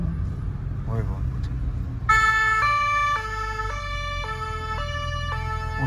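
An emergency vehicle siren sounds loud and close in a steady two-tone hi-lo pattern, starting partway through and repeating, under low engine rumble; a voice speaks briefly before it begins.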